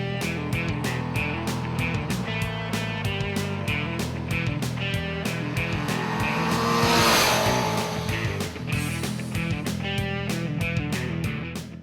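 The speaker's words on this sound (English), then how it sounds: "the exhaust note that comes out the end is really nice and fruity" A Honda Hornet motorcycle engine roars close by with a rich, throbbing exhaust note, revving higher and swelling midway before settling back.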